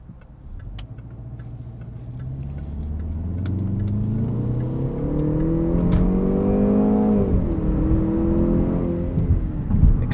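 A 2018 Jaguar E-Pace SE P250 accelerates on the road, its engine note climbing steadily through the gears with rising whir and a brief dip at a shift, heard from inside the cabin.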